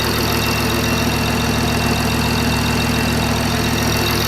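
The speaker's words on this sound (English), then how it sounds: "the engine was started cold and it was revved higher" BMW i8 engine idling just after a cold start at elevated revs: a loud, steady, close-up drone with a fast, even mechanical chatter running underneath, unbroken throughout.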